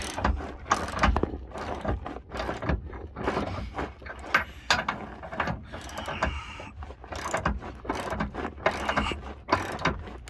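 A DeWalt tool cranks loose a torsion key on a 1995 Chevrolet Silverado, with a loud, close, irregular series of ratcheting mechanical clicks and clanks running throughout.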